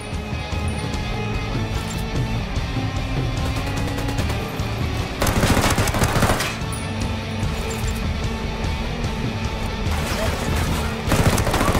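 Gunfire in the Tom Clancy's Ghost Recon Wildlands video game: rapid bursts of automatic fire that come in loud clusters with short lulls between, and brief talk mixed in.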